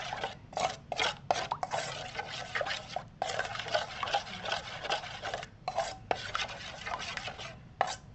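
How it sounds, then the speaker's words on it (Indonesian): Dark chocolate melted with butter, now cooled, being stirred together with oil in a bowl, giving steady scraping, rubbing strokes with brief pauses, close and moderately loud with no talking. "Sudah dingin dan sekarang kita aduk dengan minyak."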